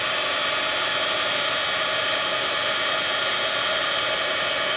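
A craft heat tool blows steadily beneath a stamped card to melt embossing powder, giving a loud, even, unbroken whooshing roar of hot air up close, with no talking.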